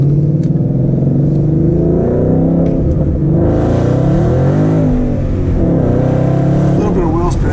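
A supercharged V8 in a 2014 Roush Stage 3 Mustang pulls hard, its loud engine tone climbing through the gears with shifts between, heard from inside the car over steady road noise.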